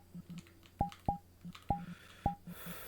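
Phone keypad tones in the VRChat video game: a series of short sharp beeps at an uneven typing rhythm, about six presses, fairly quiet with faint background hum.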